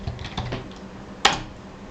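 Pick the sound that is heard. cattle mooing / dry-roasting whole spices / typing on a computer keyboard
typing on a computer keyboard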